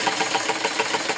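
A sewing machine runs in a steady, fast rhythmic whir while stitching a fabric washing machine cover, close and continuous with no talking.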